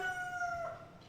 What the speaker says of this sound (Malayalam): ആ തെങ്ങിനകത്ത് ഏതെങ്കിലും കിളി വന്നിരുന്ന് കരയുന്നുണ്ട്